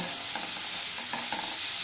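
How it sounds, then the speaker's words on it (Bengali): Prawns stirred while frying in a pan, a steady close sizzle with soft scraping stirs, no talk. "চিংড়ি মাছটা দিয়ে আমি এবার এটা নাড়াচাড়া করে নেব।"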